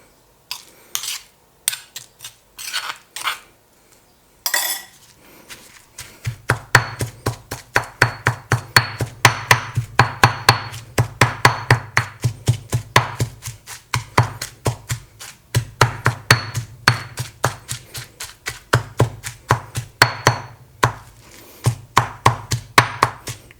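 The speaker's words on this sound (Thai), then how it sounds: "นี่นะครับโขกมาจะแหลกแล้วนะครับ" Fermented fish chili dip pounded in a mortar, a long run of sharp rhythmic thuds, a few slow strikes first and then fast steady pounding, close and loud with brief pauses.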